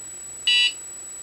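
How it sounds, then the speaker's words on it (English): A Cricut Gypsy die-cutting device gives a single short, bright electronic beep as it powers on for an update, clear and alone against a quiet room. "It beeped."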